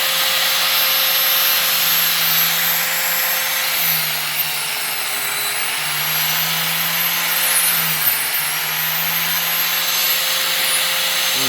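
A homemade tire truing machine runs with a loud, steady motor whine while its cutter shaves a tire, the tone dipping faintly and periodically as the blade catches the high spot. No voices are present.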